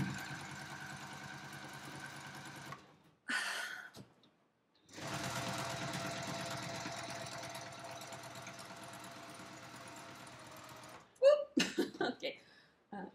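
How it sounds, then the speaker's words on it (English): A domestic sewing machine stitches a line of support stitches on a Stockholm bag, running in steady motorized bursts with short pauses and stops between runs; a person speaks briefly near the end. "We're gonna sew the extra line of stitches first."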